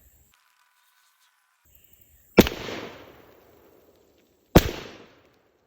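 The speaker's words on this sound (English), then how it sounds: "I'm going to shoot one shot of 8 pellet and one shot of 9 pellet" A Beretta 1301 shotgun fires buckshot, 8-pellet then 9-pellet flight-control loads, at an outdoor range: two loud, sharp reports about two seconds apart, each followed by a short echoing tail after a quiet lead-in.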